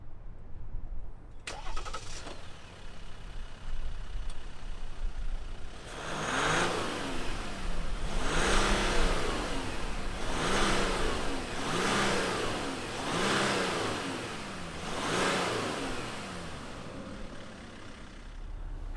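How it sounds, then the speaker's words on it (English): A 2021 Jeep Gladiator Overland with the EcoDiesel engine cranks and fires, then settles into a steady idle broken by about five rhythmic revs that rise and fall, heard alone and fairly close. "let's fire up this EcoDiesel and hear what it sounds like."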